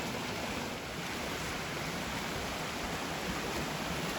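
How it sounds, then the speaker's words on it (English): A flowing river on a fall hiking trail, with a waterfall somewhere upstream, gives a steady, even rush of water that fills the air without a break and has no voices over it. "across this awesome flowing river"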